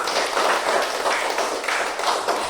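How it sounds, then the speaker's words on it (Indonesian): Children in a primary-school classroom clap their hands together in a quick, rhythmic burst of applause that sounds fairly close and continues throughout. "tepuk tangan untuk Kirlani dong."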